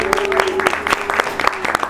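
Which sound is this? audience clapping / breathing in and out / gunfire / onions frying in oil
audience clapping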